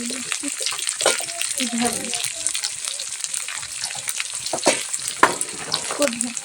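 Whole-spice tempering frying in a pan for aloo paratha, a continuous crackling sizzle with scattered stirring clatter, while someone speaks briefly over it.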